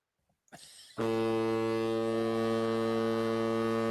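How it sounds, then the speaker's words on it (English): A loud foghorn sound effect is played during a live-stream podcast; after a brief rustle there is one deep, sustained blast that holds steady to the end. "we got the foghorn in for super chat here"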